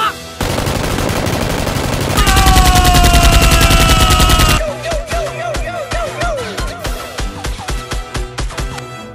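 Loud, continuous bursts of rapid machine-gun-style fire in a staged Nerf gun fight, dense at first and then breaking into quicker rhythmic volleys.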